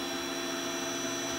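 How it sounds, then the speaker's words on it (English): A 3D printer running, giving a steady, even mechanical whir and hum with a broadband hiss, continuous and unchanging, with no voices present. "3D printer go brr."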